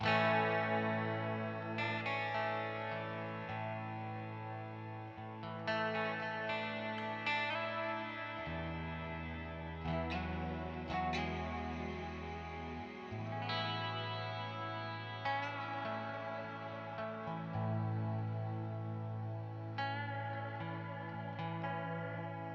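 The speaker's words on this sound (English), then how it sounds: "This is the tape reverb, so you're gonna only hear it in that side, in the right side" An electric guitar through a tape reverb pedal, heard only in the right channel, plays sustained, distorted chords and notes with a washy, echoing reverb trailing each phrase, steady and fairly loud throughout.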